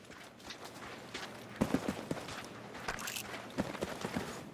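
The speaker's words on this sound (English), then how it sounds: "I'm hearing gunshots." Several sharp gunshots crack out in irregular bursts over a busy game soundscape, moderately loud with scattered impacts and no speech.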